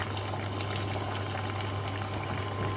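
Urad dal, dried chillies, mustard seeds, garlic and curry leaves fry in hot oil, giving a steady, close, even crackle and hiss that runs unbroken with no voices.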